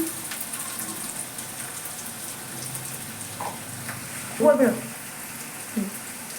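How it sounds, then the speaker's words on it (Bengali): Chopped onions with a pinch of salt frying in a pan for a home-style chicken curry, a soft steady sizzle with a brief burst of movement near the end and faint voice sounds in the background. "কুচনো পেঁয়াজটা দিয়ে ভালো করে নাড়াচাড়া করে নিয়ে একটু নুন দিয়ে দিলাম"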